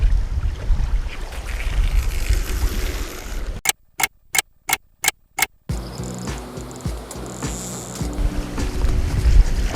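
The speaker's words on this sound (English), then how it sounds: "wind's starting to pick up a little bit. It's blowing in right in my face." Cold wind buffets a microphone beside the water during autumn carp fishing, a steady low rumble broken midway by a few seconds of sharp, regular clicking pulses with gaps of near-silence between them.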